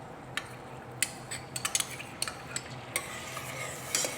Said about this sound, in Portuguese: Misturamos com a manteiga